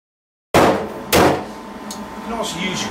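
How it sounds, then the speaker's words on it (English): Hammer-on-dolly work on a body panel of a 1962 Chevy pickup produces two loud, close metallic knocks, followed by a quieter lingering ring and faint handling noises. "So I'll just do a little bit more hammer on dolly in the center and bring it up."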